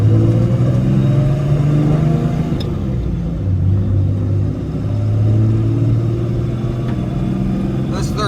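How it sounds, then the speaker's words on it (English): A fourth-generation dually pickup swapped to a G56 manual transmission drives along winding roads, its engine rumbling low and steady with slight swells in revs, heard from inside the cab. "It's so weird driving this truck as a manual now."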